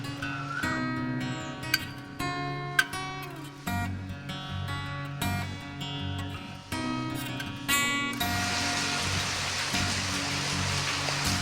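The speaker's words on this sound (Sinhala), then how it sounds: "ලොකු වැස්සක් වැටෙන්න ගත්තා" Heavy rain pours down on a garden, a steady broadband hiss that thickens and grows louder toward the end, with tonal music-like sounds running underneath.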